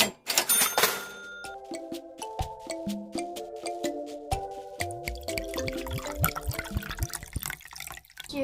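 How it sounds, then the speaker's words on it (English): Water poured into a plastic bottle while making slime, a close trickle whose tone rises steadily as the bottle fills, with a louder splashy burst at the start and no talking. "fill half the bottle with water and pour it in"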